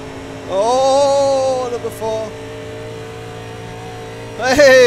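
A race car engine in the 87 NASCAR video game at Daytona, held at full throttle as a steady synthetic whine with rising pitch, loud and close, briefly dropping out before another surge at the end.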